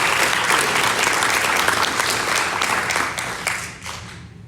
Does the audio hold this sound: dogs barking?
no